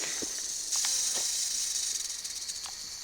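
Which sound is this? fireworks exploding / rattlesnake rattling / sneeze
rattlesnake rattling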